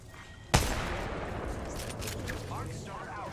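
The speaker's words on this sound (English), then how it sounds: "I am taking fire." A single sharp gunshot cracks in a firefight in Apex Legends, followed by a rumbling wash of distant gunfire and explosions, with voices talking over the din.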